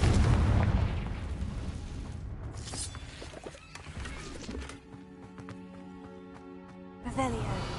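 Confringo blasting spell exploding in a video game, a loud booming blast up front that rumbles and fades into scattered crackling debris, with a second burst near the end.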